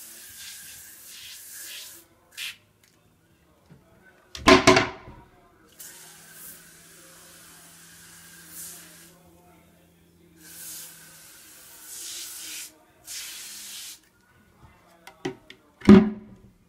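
A trigger spray bottle of Clorox Scentiva bathroom foam cleaner gives several short hissing bursts at irregular intervals, some sharp and close, with quiet gaps between them.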